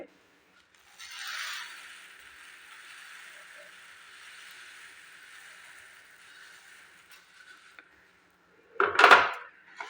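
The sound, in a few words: fried puffed rice added to jaggery in pan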